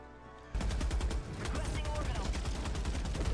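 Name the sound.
tank main cannon firing in Helldivers 2 video game trailer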